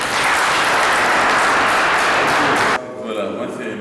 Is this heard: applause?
yes